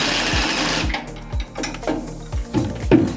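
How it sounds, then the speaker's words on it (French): A power drill whirs loudly for under a second, then stops, followed by several rhythmic clunks and rattles as the jammed drill catches and jolts during engine work on a Lotus Elise. "la perceuse elle est coincée"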